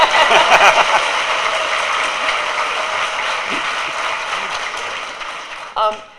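An audience at a talk in McMinnville bursts into dense, sustained applause that thins out gradually, ending with a brief voice as the clapping dies away.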